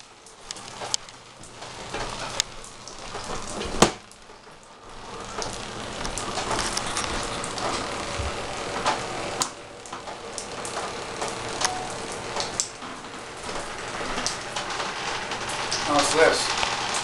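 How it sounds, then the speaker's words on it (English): Steady broadband splashing and patter of leaking toilet water falling from a ceiling onto surfaces, continuous and fairly close, with occasional louder drips and bumps. "Toilet water raining down on us."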